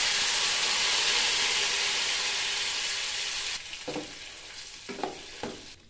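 Whole spices fry in a pan for a paneer gravy, starting with a loud, dense, hissing sizzle that drops off partway through. After that, scattered stirring scrapes and knocks follow. The sound is close, with no voices.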